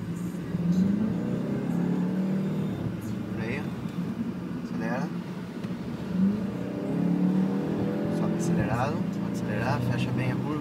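A new Volkswagen Golf GTI accelerates on a test drive, its engine note rising and holding steady close by while a voice gives short instructions over it.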